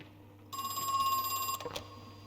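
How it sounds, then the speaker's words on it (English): A telephone in the video game Crow Country rings once with a bright, buzzing electronic trill for about a second, then cuts off, leaving a quiet hum. "Phone's ringing?"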